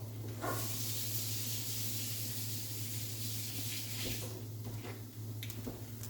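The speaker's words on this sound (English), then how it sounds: "I'm going to go rinse off the raw stuff that's left on this so they can't get off." Water runs steadily from a kitchen tap while a cooking utensil is rinsed, giving a broad continuous hiss under a low hum, with a few brief clatters as the utensil shifts and a short dip in the flow near the end.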